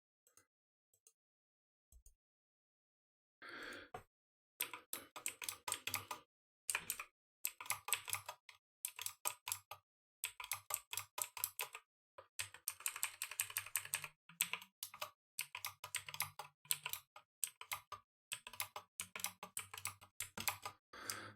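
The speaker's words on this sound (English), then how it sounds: "Notice how I was just typing there and then I was hitting enter." Rapid bursts of keystrokes on a computer keyboard, close and clear, in uneven clusters with brief pauses, punctuated by harder single presses of the enter key, no voices.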